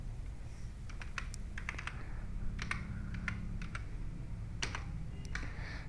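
Text is typed on a computer keyboard, light key clicks in irregular short bursts over a low steady hum, close and moderately quiet.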